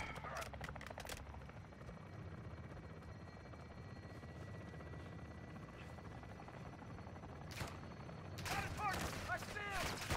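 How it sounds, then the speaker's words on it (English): Belt-fed machine gun fire in the Modern Warfare 2 campaign, short bursts at the start and again near the end over a constant helicopter rotor drone, with radio-style voices talking throughout. "Taking belt-fed fire from beneath the tower."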